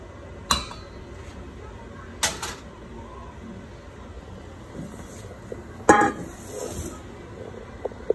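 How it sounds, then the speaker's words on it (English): Chopped vegetables for a quinoa salad are tipped into a mixing bowl, giving three sharp clinks and clatters against the bowl spaced a few seconds apart, with quiet kitchen background between them. "I'm going to take my vegetables, put them in the mixing bowl as well."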